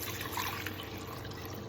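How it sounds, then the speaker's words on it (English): Cold water trickles steadily into a cooking pot in a home kitchen, a soft continuous pour with a light splashing texture, faint and unbroken with no voices. "So add cold water and we're going to bring it to boil."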